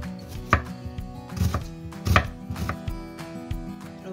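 Onion being chopped on a cutting board for savoury mushroom and ham crepes, a series of close, irregular knife strikes with no talking.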